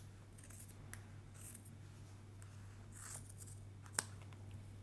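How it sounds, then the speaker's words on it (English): Scissors trim ultra suede for covering a cuff bracelet, making a few faint, scattered snips over a low steady hum, quiet and close, with no talk. "We're going to trim this up"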